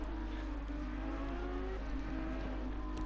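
Race cars weaving at Suzuka in Assetto Corsa Competizione, a loud continuous engine drone with steady whirring, several cars running together without pause.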